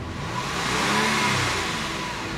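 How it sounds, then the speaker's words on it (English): A Porsche 911 engine revs steadily up and holds a strong, broad roar before easing slightly, a continuous close engine sound with no talking over it. "I'm just gonna keep revving it from time to time"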